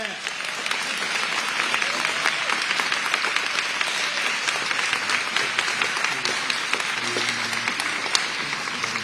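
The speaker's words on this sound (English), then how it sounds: "give a round of applause for the children" Audience at a school choice rally with the governor applauds the children, steady clapping filling the space at a moderate level, with faint voices and a few cheers mixed in.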